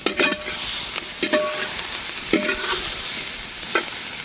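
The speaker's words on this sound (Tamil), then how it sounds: "நல்லா எண்ணெயில் வதவணும்ண்ணா. வதங்கணும்." Capsicum and onion sauté in hot oil in a pan, a continuous close sizzle with a few sharp stirring scrapes at regular intervals and no talk.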